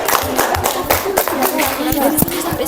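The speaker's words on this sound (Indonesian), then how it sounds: "Kasih aplaus dulu untuk temannya kelompok" Classmates clap for a group of junior high students in a school classroom, a dense, steady round of applause lasting a few seconds with a voice speaking over it.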